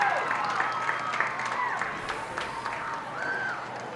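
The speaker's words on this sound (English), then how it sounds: "you can hear the crowd" A crowd at a Texas high school football game roars and claps in the stadium at halftime, a busy, continuous wash of noise with scattered shouts and whistles.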